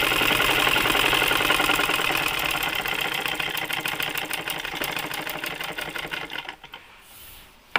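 A sewing machine runs steadily, stitching a dress seam with a rapid continuous mechanical patter, loud and close, then slows and stops near the end.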